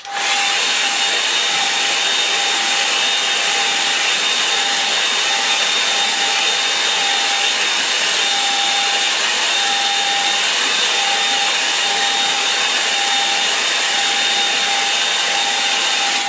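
A hair dryer drying a painting blows in one loud, unbroken whir with a faint steady whine, running for the whole stretch with no voices.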